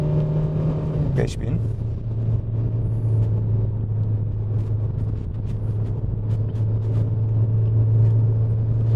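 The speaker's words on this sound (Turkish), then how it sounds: "bir hızlanma yaptığımız için şu an için bence gayet güzel bir çıkış yapıyor araba" A 2013 Kia Sportage 1.6 GDI automatic SUV pulls away from a start, its engine drone rising steadily and holding as a loud, continuous hum in the cabin, with a person talking over it throughout.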